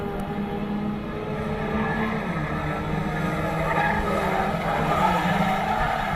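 Nissan March 1000cc race cars lap the Katukurunda circuit, their engines droning steadily with a rising and falling whine as they pass, a continuous mid-distance roar with no talk.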